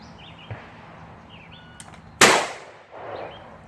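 A single sharp gunshot rings off a steel target seven yards away at a shooting range, one loud close crack with a short metallic ring, heard alone against quiet background.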